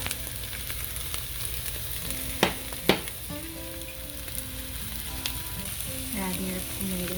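Zucchini frying in a pan with a steady, close sizzle, a couple of sharp knocks partway through and faint stirring, no voices.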